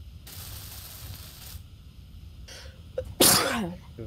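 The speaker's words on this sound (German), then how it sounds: "Gesundheit. Gesundheit." A single loud, close sneeze bursts out sharply after a quieter stretch of room noise and a brief intake of breath.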